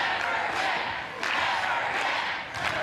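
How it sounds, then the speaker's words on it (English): Protest crowd at a gun violence rally in Pennsylvania chanting "Never Again" in unison, a dense, steady roar of many voices with rhythmic surges, heard from amid the gathering. "The crowd there chanting "Never Again," an incredibly powerful moment"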